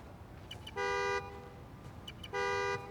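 Two sustained car horn honks, triggered by a key fob in the Spider-Man: Miles Morales video game, each lasting about half a second with a pause between them, sounding clearly over a low city background hum.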